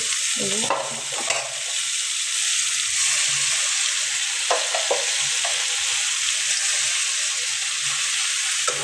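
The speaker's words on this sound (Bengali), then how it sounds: "এখন শাকগুলো ছেড়ে দেবো" Leafy greens dropped into hot oil with fried onion, garlic and chili, giving a steady close sizzle with a few sharp clatters of the spatula near the start, no talking.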